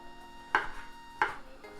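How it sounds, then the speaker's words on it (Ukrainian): Three crisp knife strikes on a cutting board, chopping cucumbers into small squares, evenly spaced about two-thirds of a second apart, close and clear against a quiet background hum. "Я нарізаю такими квадратиками."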